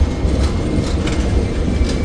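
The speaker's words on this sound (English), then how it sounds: "finally here comes the train in all its glory and the beauty" Train arriving at a station in South Africa rumbles loudly and steadily close by, with a dense low roar of wheels and carriages and faint clattering on the rails, no voices.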